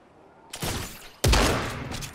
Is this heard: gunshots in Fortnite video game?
yes